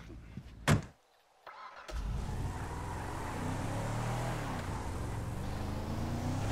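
A car in GTA 5: a door slam, then a short hush before the engine starts and settles into a steady, droning rumble as the car drives on, with no talk.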